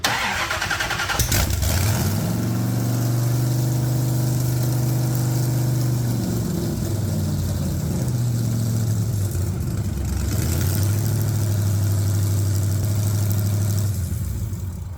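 An 800hp supercharged 1995 Jeep Wrangler fires up after a crank and settles into a loud, lumpy idle with a low rumble, blipping briefly midway before idling on.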